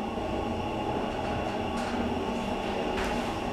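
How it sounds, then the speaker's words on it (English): A Schindler hydraulic elevator with a stainless steel cab runs with a steady, close mechanical rumble and hum, joined by a couple of faint higher whooshes partway through. "Your basic Schindler 338 elevator, basic stainless steel cab."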